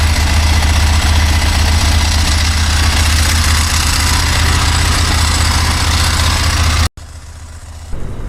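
A Ducati S4R motorcycle engine runs loud and close, a steady, throbbing idle with a deep low rumble. It cuts off abruptly near the end, leaving quieter background noise.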